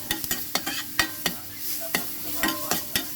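Onion and garlic sauté in a pan for pork lomo under a soft sizzle, while a spatula strikes and scrapes the pan in quick, sharp, irregular clacks close by.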